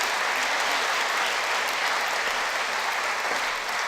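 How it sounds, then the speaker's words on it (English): Steady, full applause from an audience at a university prize-giving ceremony, many hands clapping in an even wash that holds at constant loudness throughout. "Can we give her another round of applause?"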